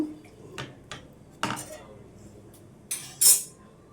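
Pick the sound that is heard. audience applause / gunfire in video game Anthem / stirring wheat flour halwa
stirring wheat flour halwa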